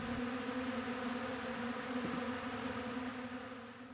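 Honey bees buzz in a steady, dense drone from a large apiary, a continuous hum close by that fades slightly at the end, with no voices.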